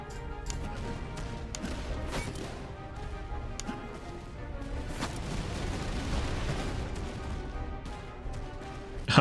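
Artillery and musket fire in a Napoleonic-era strategy game battle, a continuous dense clatter of distant cannon booms and scattered gunshot cracks, steady and moderately loud throughout.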